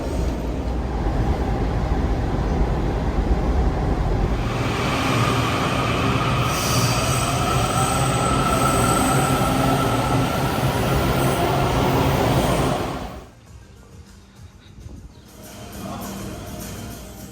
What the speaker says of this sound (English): we're going to jump in this train right here